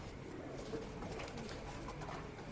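Pigeons cooing softly in a Bangalore pigeon-selling loft, faint low throaty calls over a quiet steady background.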